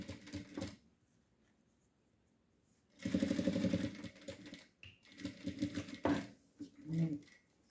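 A sewing machine stitches blue fabric in two quick rapid-fire bursts, close and fairly quiet, separated by pauses with faint handling sounds.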